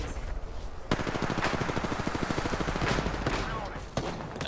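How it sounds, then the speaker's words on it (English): Rapid automatic gunfire rattles through a loud video-game firefight, dense bursts of shots layered with sharper cracks and impacts, continuous and close throughout. "I'm getting shot by another team."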